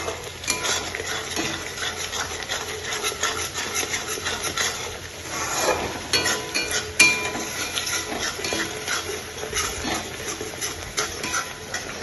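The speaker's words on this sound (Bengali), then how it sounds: "এখানে হচ্ছে মশলাটা কষাচ্ছি" Spice paste for potato curry is stirred and fried in a pan, a spoon scraping and rubbing steadily against the metal under a low sizzle, close and continuous.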